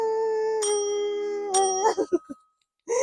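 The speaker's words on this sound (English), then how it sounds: "And let's ring the bell." A small desk-style bell is struck twice, each ding ringing out clearly and sustaining with a bright, bell-like tone before brief rustling noises and a short quiet stretch.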